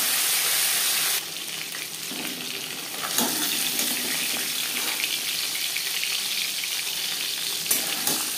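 Fish and fish head frying in hot mustard oil, a loud steady sizzle that drops briefly then swells again as the pieces are turned to cook the other side, with faint clinks from the pan.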